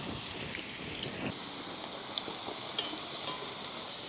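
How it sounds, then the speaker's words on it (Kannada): Dried potato chip slices fry in hot oil with a steady, even sizzle and a few faint pops, close up and with no talking. "ಇನ್ನೀಗ ಒಣಗಿದಂತಹ ಚಿಪ್ಸಿನ ಸ್ಲೈಸನ್ನು ಎಣ್ಣೆಗೆ ಬಿಡ್ತೇನೆ"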